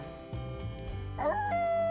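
Small puppy yelps and whimpers inside the game Laika: Aged Through Blood, a short rising cry that holds as a thin whine over a low musical backdrop, alone without talk.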